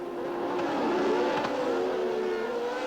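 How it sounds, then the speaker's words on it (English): Formula 1 race cars from the 1982 season roaring around a circuit, a loud sustained engine wail with a rising pitch sweep as a car passes close by. "But the engines drowned him out."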